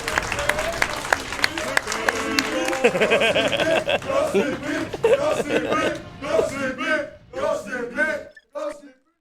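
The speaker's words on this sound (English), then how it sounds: "people applaud when you hit a frame perfect trick" A live speedrun event audience bursts into loud applause and cheering after a frame-perfect trick in Ratchet & Clank: Going Commando, sustained clapping and shouts that taper off into scattered claps.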